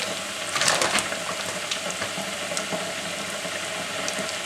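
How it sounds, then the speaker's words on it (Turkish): Chopped onion sautéing in a pot for Turkish Çeşm-i Nigar soup, giving a steady, close frying sizzle and hiss that runs throughout, with a few slightly louder crackles near the start. "Bir tane doğradığım soğanımı koyuyorum. Ve soğanımız pembeleşinceye kadar kavuruyoruz."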